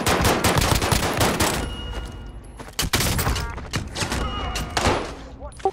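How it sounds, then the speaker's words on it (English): Gunfire from pistols in a shooter video game, with sharp repeated shots through the opening and again around the middle and end, mixed with busy game noise and players talking over it. "That was a pistol."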